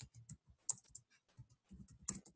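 Typing code on a computer keyboard: quiet, close keystrokes arrive in short bursts and scattered single taps, with brief pauses between groups and no voices.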